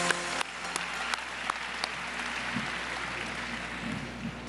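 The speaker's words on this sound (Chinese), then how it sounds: "看来我们还是要一起再掌声感谢一下她的男朋友" Applause from a large audience in a hall at the Golden Horse Awards ceremony, a soft and fairly distant wash of clapping that holds steady for several seconds, with a few sharper individual claps standing out.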